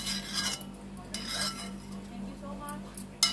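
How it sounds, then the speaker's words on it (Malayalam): Tender jackfruit thoran stirred with spice paste in a pan, the spoon scraping and clinking against the metal in irregular bursts, close up. "എല്ലാം ഇട്ടിളക്കി, അരപ്പൊക്കെ ഇട്ടിളക്കി,"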